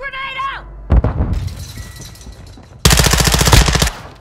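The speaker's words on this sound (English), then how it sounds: "Stun grenade out!" Stun grenade and gunfire in a video game set in the Koschei Complex: a brief voice, then a loud blast and sustained bursts of rapid automatic fire close by.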